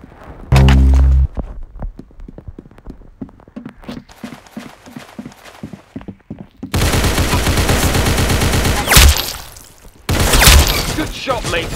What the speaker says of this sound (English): Oh, minigun.